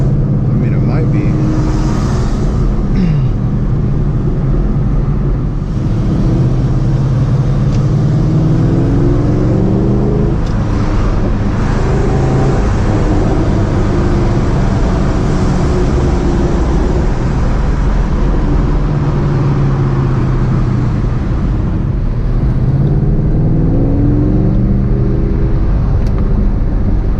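A Ford GT500 rolls up onto the freeway, its engine droning steadily with road noise, heard from inside the cabin under someone talking the whole time.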